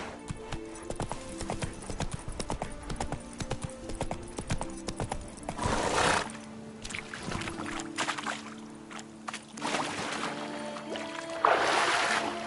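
Horse hooves clip-clop at a gallop in The Witcher 3, a steady rapid rhythm close and loud throughout, with a brief rushing whoosh midway and again near the end.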